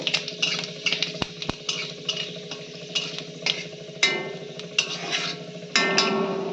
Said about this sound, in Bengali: এখন দিয়ে দিচ্ছি পাঁচফোড়ন, দিয়ে দিচ্ছি তেজপাতা, দিয়ে একটু নাড়াচাড়া করে